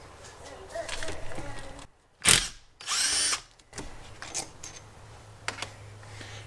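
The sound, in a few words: removing transmission pump bolts with a power tool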